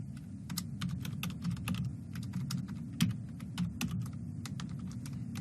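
Rapid, steady keystrokes on a computer keyboard as Arduino code is typed, clicks packed closely together at an even pace with no voices.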